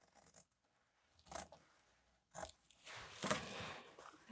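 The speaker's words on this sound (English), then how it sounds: "I am gonna trim this a little bit." Scissors snipping fabric while trimming a fusible appliqué mushroom piece for an art quilt, giving a few soft, close crunchy cuts, with the longest sustained cut near the end.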